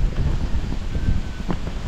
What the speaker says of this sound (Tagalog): Grabing lakas ng hangin.